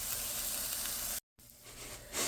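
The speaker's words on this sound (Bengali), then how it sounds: "ডিমের এক সাইডে একটু পেঁয়াজ আর একটু কাঁচামরিচ দিয়েছে। এটা আস্তে আস্তে ভেজে নেব।" Egg frying alongside onion and green chili in a pan, a soft steady sizzle and hiss broken by a brief gap, then continuing quietly.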